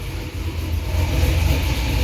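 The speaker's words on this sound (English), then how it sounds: "the car is running" A car engine running steadily after a swap to an E38 engine computer, a low, even rumble with a slight rise in revs, close and alone.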